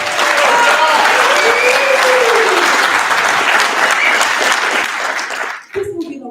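Audience at a state representative district debate forum applauds, a loud, sustained crowd clapping that fades out as a voice begins speaking at the end.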